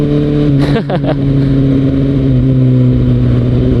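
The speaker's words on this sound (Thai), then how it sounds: "เอานี่ผมลากเกียร์สองกันเนี่ย" A Kawasaki Ninja ZX-6R held in second gear in Bangkok traffic, its engine droning steadily at high revs with a constant tonal whine, close and loud the whole time.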